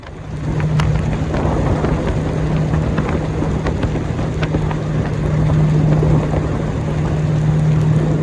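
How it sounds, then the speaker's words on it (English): Heavy rain pours steadily on a river boat with thunder rumbling underneath and a low engine drone, a continuous loud wash of noise with no voices. "The sun set, it started pouring rain, and then lightning started."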